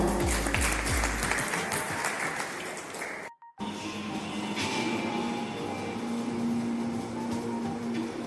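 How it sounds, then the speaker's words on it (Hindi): An audience at a community gathering in Panchkula, Haryana claps loudly in a dense, steady burst of applause that breaks off briefly midway and then resumes, fuller at first and slightly thinner afterward. "जोरदार ताली।"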